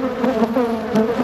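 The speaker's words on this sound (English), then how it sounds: "When I said these bees are not happy to see us." A swarm of agitated honey bees buzzes close around a beekeeper in a suit, making a loud, dense, continuous drone with slight wavering pitch and no voices.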